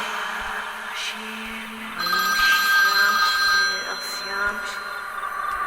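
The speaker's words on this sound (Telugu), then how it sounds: "ఆఫ్ అయిన ఫోన్ మళ్ళీ రింగ్ అవుతుందేంటి?" A phone ringing indoors, a loud electronic ringtone with bright sustained tones that swells in the middle and fades, over a low background hum.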